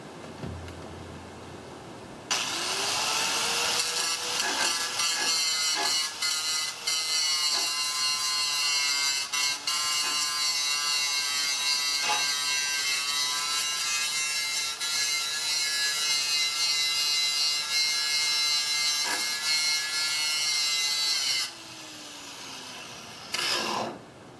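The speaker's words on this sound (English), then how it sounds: "I'll go ahead and grind them smooth." An angle grinder smooths cut-off bolts on a 5x10 M3 trailer frame, a loud continuous whine and metal rasp held for about twenty seconds with slight shifts in pitch as the disc bears down, then it winds down.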